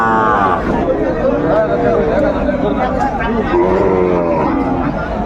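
Sahiwal bull calves at a busy cattle market, with a low moo rising through steady crowd chatter and loud bargaining voices close by throughout.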